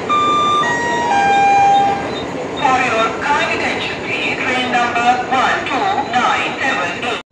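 The Marusagar Express pulls into crowded Vasai station, loud and near, with high horn-like tones and rumbling rail noise while people talk nearby.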